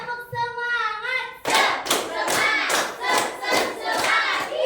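A classroom of students performs the rhythmic 'tepuk semangat' cheer, loud group clapping in a steady beat of about seven sharp bursts mixed with shouted chanting voices, after a brief sung or spoken intro.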